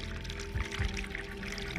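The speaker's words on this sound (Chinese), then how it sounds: "流淌出了潺潺的小溪" A babbling brook trickles along the floor of a deep-cut gully near Qiankun Bay, a steady close wash of running water with low rumbling swells and no voices.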